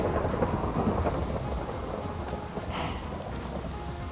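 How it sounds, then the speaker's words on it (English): A Minecraft thunderstorm with steady rain pattering and low rumbles of thunder rolling underneath, continuous and fairly loud throughout. "I needed to take a break because there's a storm out there"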